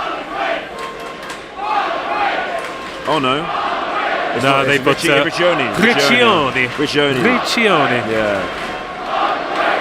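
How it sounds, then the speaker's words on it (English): Rugby match crowd raising its voice late in a tight game, a broad roar of cheering and chanting beneath close, excited commentary voices talking over it. "Right, the crowd are finding their voices"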